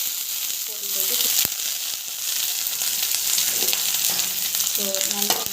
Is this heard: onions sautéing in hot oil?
yes